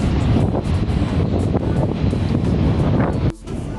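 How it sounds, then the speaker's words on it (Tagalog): Strong wind buffeting the microphone at Dover port after a ferry crossing from Calais in cold, rainy weather, a loud, continuous rumbling roar that drops briefly near the end, with no voices. "Lakas ng hangin."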